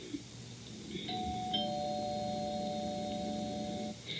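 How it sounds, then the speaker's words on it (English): A soft two-tone doorbell chime rings once and sustains over a quiet background hum. "This ding dong means that we're beginning the first exercise."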